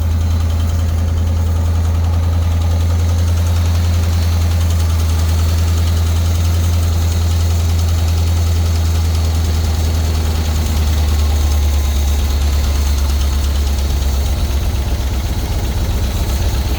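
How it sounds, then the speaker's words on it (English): A Jeep engine idles steadily up close after timing adjustment, a loud continuous low rumble with constant vibration that holds through the whole stretch with no talk. "Now the engine's running."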